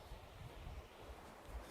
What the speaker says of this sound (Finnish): täällä on niin kova tuuli